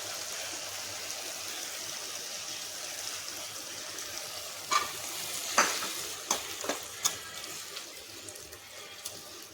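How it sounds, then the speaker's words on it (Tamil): Tamarind water pours into a pan of okra kuzhambu, giving a soft steady hiss and sizzle, followed by several sharp clinks and scrapes of stirring, all fairly faint with no talking. "இப்போது நம்ம வச்சுருந்த புளிய தண்ணியை போடலாம்."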